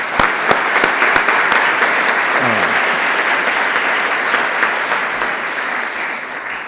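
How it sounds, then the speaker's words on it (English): Loud, continuous audience applause for university student presenters at a school challenge event, a few sharp individual claps standing out early before the ovation settles into a steady wash. "just a round of applause for all their hard work"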